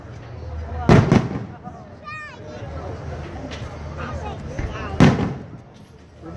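Fireworks bursting at the Pioneer Days event in Deerfield Beach in 2019, two loud booming explosions a few seconds apart, with a crowd talking and exclaiming throughout.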